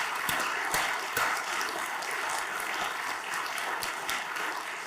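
At the closing session of a conference, the audience applauds the local organizers with a steady wash of clapping, several sharp louder claps standing out early, sustained evenly without talk.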